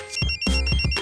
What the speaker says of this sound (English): Is your chair, is that your phone?